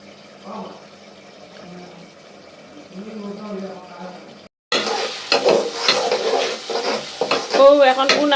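Large prawns stir-fried in a pan, with a faint sizzle and scraping at first, then a loud burst of frying crackle and stirring clatter; a voice talks over it.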